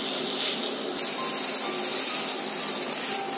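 Broccoli fries with spices in a hot pan, giving a steady, close hissing sizzle that grows a little louder after the first second and then holds evenly with no talking.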